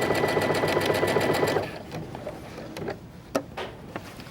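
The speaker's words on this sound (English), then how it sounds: "So we're going to top stitch right along both rows, both the top and the bottom of the bias tape that you're using." Sewing machine top stitching along both edges of bias tape on a child's garment, a steady rapid whirring stitch for about a second and a half that then stops, leaving faint handling clicks and rustles.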